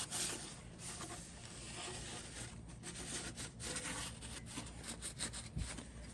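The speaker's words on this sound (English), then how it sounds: "I'll wipe all this down just from all the oil residue and the brake cleaner that's run down from us cleaning the top side" Steady rubbing and wiping with paper towels on a Ford 5.4 camper van engine, cleaning off oil residue and brake cleaner, a continuous close scrubbing texture with no talk.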